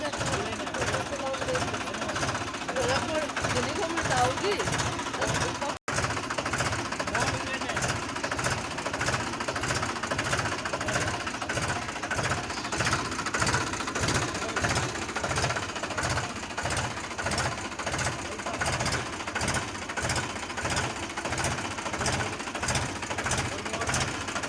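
A Mahindra tractor engine runs steadily with a fast, regular diesel chugging and knocking pulse, loud and close throughout, with a single brief dropout partway through.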